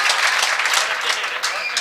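Audience applause at an Urdu mushaira poetry gathering, a steady wash of clapping filling the whole stretch, moderately loud and close, with speech-like crowd voices mixed in.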